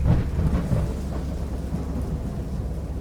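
A deep, rolling rumble of thunder with a steady hiss of rain, loudest at the start and slowly fading to a constant wash.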